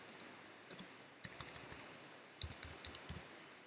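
Quiet clicking at a computer, a few scattered clicks followed by two quick rapid bursts of sharp clicks against faint background hiss, no speech.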